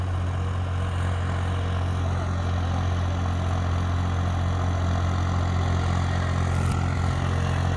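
A New Holland 3600-2 diesel tractor engine idles steadily up close, a constant low rumble with an even throb and no change in pace, with no voices over it.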